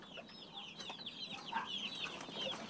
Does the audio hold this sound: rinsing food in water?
no